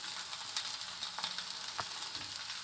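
Maggi pasta stirred in a hot pan sizzles steadily, with soft scrapes and clicks of the spoon against the pan, close and fairly quiet.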